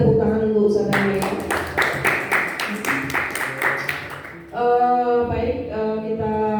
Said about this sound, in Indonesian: lagi tepuk tangan untuk Ustaz Yahya.